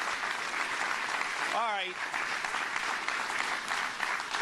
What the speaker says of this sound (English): I get a little bit more polite applause